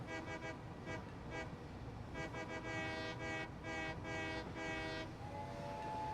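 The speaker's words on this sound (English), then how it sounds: "I got the whistle that time." A steam-style train whistle from a locomotive in the video game Satisfactory sounds in a series of short toots and longer blasts over a low rumbling train, fairly faint and with no talk.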